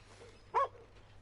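A dog in the Western video game Red Dead Redemption lets out a single short bark or whimpering yelp, close and brief, over a quiet game ambience.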